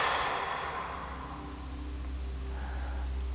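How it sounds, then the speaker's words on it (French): A slow breath let out through the mouth during a guided relaxation session, a soft airy exhale that fades over a few seconds above a low steady hum. "On expire par la bouche."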